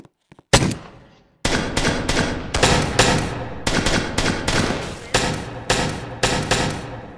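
Rapid gunfire from a Roblox video game, loud bursts of repeated shots in several rhythmic volleys with brief pauses between them, continuing for most of the clip with no talking.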